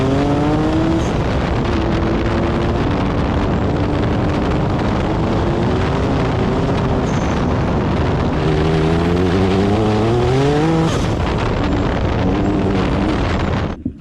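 A turbocharged Mitsubishi 3A92 three-cylinder engine revs up toward 9,000 RPM, a loud continuous drone whose pitch climbs, steadies, then sweeps higher again, with heavy wind buffeting across the microphone throughout.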